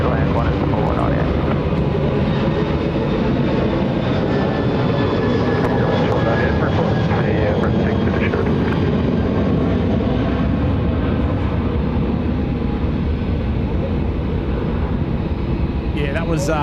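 A USAF KC-135 or KC-46 tanker jet landing at Sydney Airport, a loud, steady broadband engine roar sustained throughout with no pauses, with faint talk in the background.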